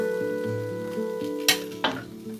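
Sugar-fried chestnuts stir-fried in a wok, a steady sizzle under a sustained tonal hum with two sharp scrapes of the spatula against the pan.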